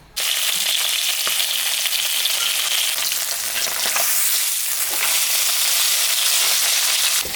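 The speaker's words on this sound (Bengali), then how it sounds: "মাছ ভাজবো। সর্ষের তেল দিয়ে দিলাম।" Katla fish sizzles loudly in hot mustard oil, a dense, steady crackle and spatter close by with no talking.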